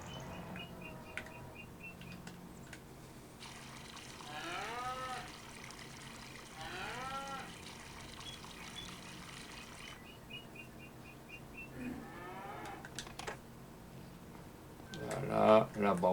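Cows moo repeatedly on a farm in a farming video game, long drawn-out calls rising and falling over a steady ambient bed with occasional bird chirps, fairly faint and at a moderate distance.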